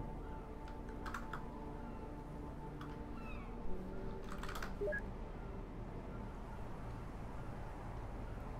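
Keys tapping as a password is entered on a computer keyboard in The Secret World, a few sparse clicks over a steady low hum, with a cat meowing faintly in the background.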